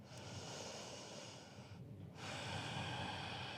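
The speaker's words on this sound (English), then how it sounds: "2 deep breaths here." Deep breathing during a vinyasa yoga flow: a long, airy exhale close to the microphone, a brief pause, then a fuller inhale, heard alone without talk.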